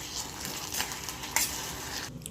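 Jaggery melts with a spoonful of water in a hot kadhai, a close, steady bubbling sizzle with a few utensil scrapes, ending abruptly.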